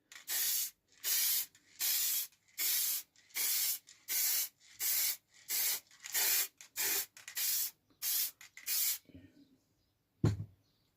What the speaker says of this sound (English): But I'll do a little quick spray just to show you.